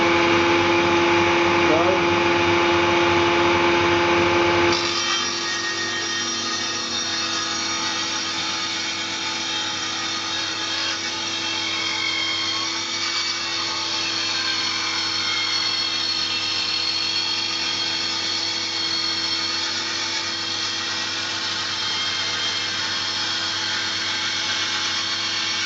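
A bench saw cutting through hard material, with a loud, steady mechanical whine that rises sharply after about five seconds and holds for the rest of the stretch, close by and with no talk over it.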